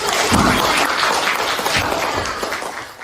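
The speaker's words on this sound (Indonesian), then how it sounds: "Oke, tepuk tangan." Students in a school classroom clap together after a math answer, a loud burst of mixed group clapping that gradually thins and fades toward the end.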